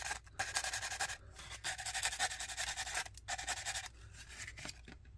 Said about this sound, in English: I'm going to sand the back of them.